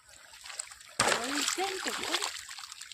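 Water splashes and gushes as it is poured into a furrow in a village farm field, bursting in loudly after a quiet second and continuing close by while voices talk over it.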